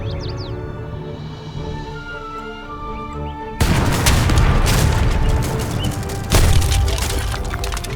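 Cannon fire erupts in an Age of Empires 3 battle, a sudden loud boom breaking a quieter musical backdrop, followed by crackling, splintering impacts and a second heavy blast.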